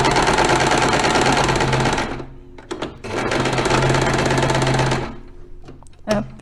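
A domestic sewing machine stitches fabric in two loud, rapid, continuous runs of about two seconds each, separated by a pause filled with small clicks and handling noises, with another brief click near the end.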